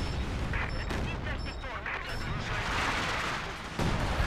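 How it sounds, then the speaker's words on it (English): Mortar and machine gun fire in a video game, a continuous dense rumble of distant blasts and rattling shots that stays loud throughout, with talk partly mixed into the din. "My guys will shoot their mortar."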